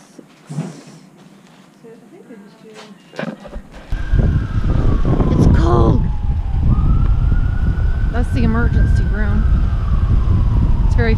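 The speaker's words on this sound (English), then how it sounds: "Fitting that there's sirens in the background." A police siren wails in the background outdoors, a rising and falling tone heard from a distance under wind noise and close talking.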